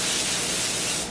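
Cooking spray hissing onto parchment or wax paper to keep a crispy s'mores sushi from sticking, a steady close-up spray lasting about a second with no talk.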